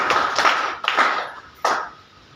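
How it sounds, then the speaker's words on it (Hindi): A few scattered hand claps in short bursts from a small audience at a business training seminar, each burst fading quickly before the room falls quiet. "ये दोनों आप ताली बजा सकते हैं इनके लिए"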